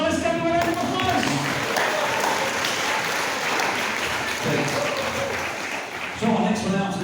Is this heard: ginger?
no